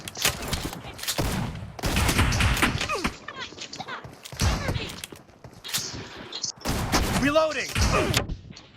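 Shotgun blasts ring out in a PUBG Mobile team deathmatch, loud bursts of several heavy shots in quick clusters separated by short gaps, with game voice callouts in between.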